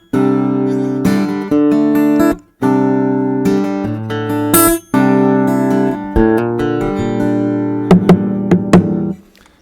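Takamine acoustic guitar strummed with its piggyback pickup turned up, warm full chords ringing in bursts with brief gaps and a few sharp percussive slaps near the end, close and loud without voices.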